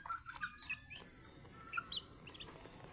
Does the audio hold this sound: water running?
no